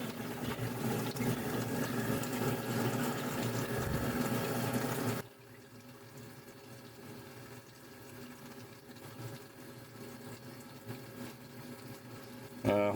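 A larger bilge pump pushes water against an inflow from a hose, a loud gushing rush for about five seconds that cuts to a faint trickling hum, with a short burst at the end.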